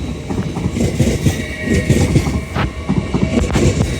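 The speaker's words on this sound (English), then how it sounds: "now is a LNER Zoomer from York to London King's Cross" An LNER Zoomer train from York to London King's Cross rumbles steadily past at Doncaster station, with a continuous loud clatter of wheels and rail noise throughout and no talking.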